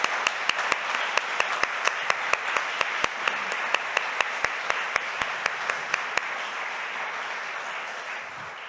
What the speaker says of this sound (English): we'll give her a big round of applause